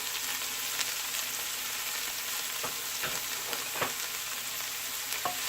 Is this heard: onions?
yes